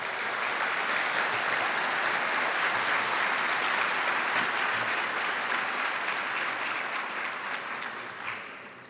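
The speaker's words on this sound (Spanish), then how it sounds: "Démosle un fuerte aplauso." Conference audience at a national criminal justice congress applauding, a loud, sustained roll of many hands clapping that holds steady for several seconds before tapering off.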